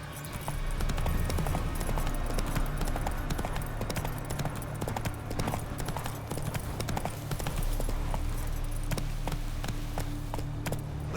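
Roach, a horse in The Witcher 3, gallops at a steady pace, rapid rhythmic hoofbeats clopping continuously and fairly close over a low ambient hum.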